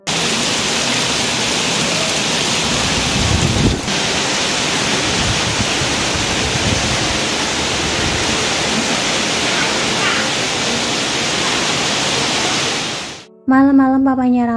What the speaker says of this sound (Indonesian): Nah ini hujannya kan deras banget kayak gini.